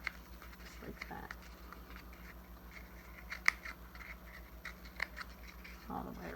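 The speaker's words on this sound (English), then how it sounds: "So I'm going to cut out this part." Scissors snip through a cardboard egg carton in a few sharp, separate cuts, close and fairly quiet against a soft room background with a continuous low hum.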